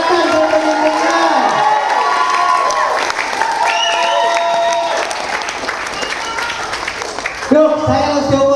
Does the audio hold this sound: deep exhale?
no